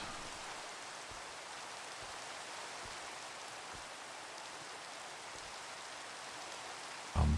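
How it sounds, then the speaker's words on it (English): Steady broadband rain hiss from a Minecraft game world, continuous and even throughout at a moderate level, with a brief louder bump right at the end. "Loving how long this rain's lasted."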